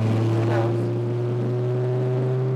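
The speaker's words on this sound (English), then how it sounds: "this exhaust is very loud" A 1993 VW Corrado VR6 with a loud exhaust gives a steady, droning rumble with a strong low hum, held evenly and close throughout.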